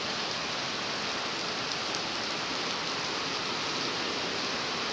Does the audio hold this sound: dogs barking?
no